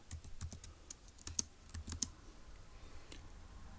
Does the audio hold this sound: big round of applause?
no